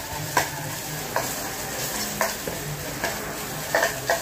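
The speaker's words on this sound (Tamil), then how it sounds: "வெங்காயம் நல்லா வதங்கினதும் இஞ்சி பூண்டு பேஸ்ட் கொஞ்சம் போட்டு வதக்கிக்கலாங்க." Onions with ginger garlic paste sautéing in a pan, with a steady sizzle and repeated scraping stirs of a utensil at a roughly regular pace.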